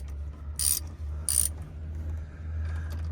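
A wrench tightens a radiator hose fitting on a 2020 Ram 1500 with a 5.7 V8, two quick metallic ratcheting clicks close by over a low steady hum, then quiet.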